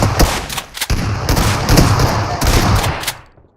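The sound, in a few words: gunshots in a first-person shooter video game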